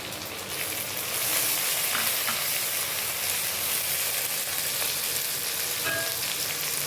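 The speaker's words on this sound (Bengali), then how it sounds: "এবার পেঁয়াজ কুচিটাকে একটুখানি লাল করে ভেজে নেব।" Chopped onion with bay leaf and tomato sizzles steadily in an oil-filled pan while cooking a ghugni, a dense, continuous close-up frying hiss with faint stirring and no voices.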